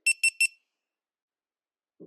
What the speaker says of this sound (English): That was my face camera beeping there.